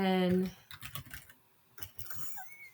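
Clumsy typing on a computer keyboard, a quick run of close key clicks in uneven bursts after a voice, with a brief pause midway.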